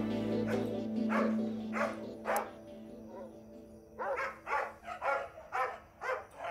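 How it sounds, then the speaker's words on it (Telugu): Dogs barking at night, several sharp barks in irregular bursts at moderate distance, some clustered and some spaced apart, over a low steady background hum. "ఈ కుక్కలో నిద్రపోనివ్వడం లేదు"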